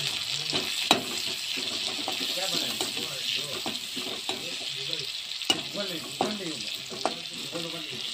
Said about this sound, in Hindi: ब्राउन कलर होने तक मैं फ्राई कर लेती हूँ।